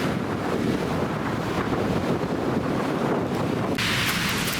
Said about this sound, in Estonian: Siin tuleb suur laine ja me oleme ookeanis.